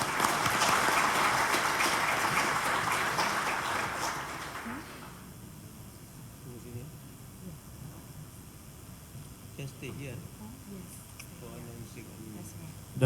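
An audience at a summit's opening session applauds two speakers, a loud dense burst of clapping that fades after a few seconds into quieter room noise with some talk.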